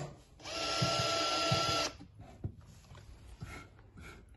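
A power drill boring holes to mount handles, one short, steady whine of about a second and a half, followed by quieter handling noises and a few knocks.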